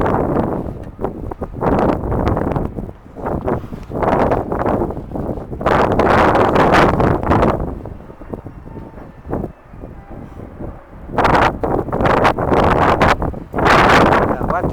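Loud, gusty wind buffets the microphone outdoors in irregular bursts, roaring up and dropping away several times, with quieter lulls between.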